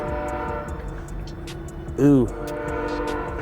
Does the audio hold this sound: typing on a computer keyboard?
no